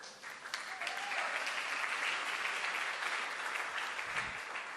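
A church congregation applauds in a sustained burst of clapping, dense and fairly even throughout, from a crowd filling the room.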